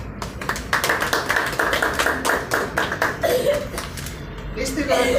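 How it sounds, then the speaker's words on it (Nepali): At a film show, an audience claps in a steady, dense patter for several seconds, close and lively, with a voice speaking over it and light laughter. "हामी ताली बजाउँदैछौँ"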